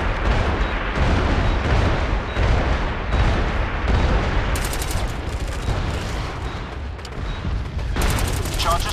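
Artillery fire and gunshots in the war video game MAG form a dense, continuous barrage of booms and bursts. Rattling volleys come close and loud throughout, with no pause.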